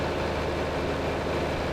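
Tractor engine idling in a farming video game, a steady low rumble holding evenly throughout without variation, no talking over it.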